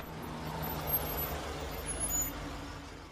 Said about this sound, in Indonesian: Mobilnya diderek menggunakan towing